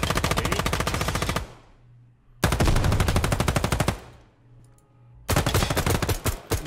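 Automatic rifle fire in the tactical shooter Ground Branch, three loud sustained bursts of rapid shots separated by brief gaps with fading echo.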